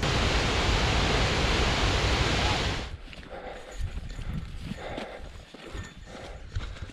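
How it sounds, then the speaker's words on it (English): A waterfall in the Yellowstone wilderness roars as a steady broadband rush for about three seconds, then drops away, leaving quieter scattered hoof-like clip-clops and movement. "And yet another waterfall."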